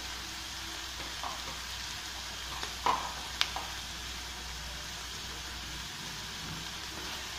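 Chopped spinach stirred into a besan curry (palak kadhi) in a pan: a quiet, steady sizzle runs throughout, with a couple of sharp spoon clinks against the pan near the middle.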